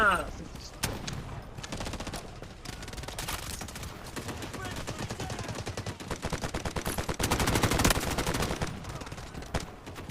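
Gunfire in the mobile shooter Delta Force Mobile: rapid, sustained automatic bursts with dense rattling shots, loudest toward the end, with a voice talking over parts of it.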